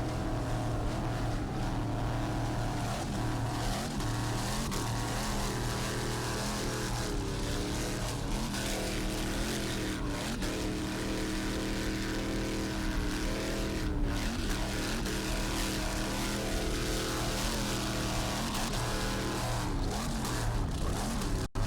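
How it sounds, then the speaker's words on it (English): Loud offshore racing powerboat engines on the Extreme Vortec boat at an offshore grand prix roar continuously, with pitch rising and falling as the throttle shifts and no voices over the engine noise. "Nice throttling there by Steve Miklos."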